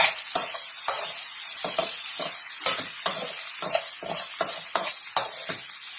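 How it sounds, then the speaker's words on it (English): Potato bhaji gets stirred in a pan over a steady sizzle, a spoon scraping and knocking against the metal in a quick, irregular rhythm of a dozen or so close, distinct strokes. "And again give this a very good mix."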